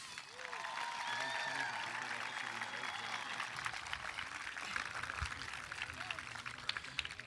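Audience applause for graduates at a Tabor College commencement ceremony in 2017: sustained clapping from a large crowd in a big hall, steady and moderately distant, with faint murmuring voices underneath.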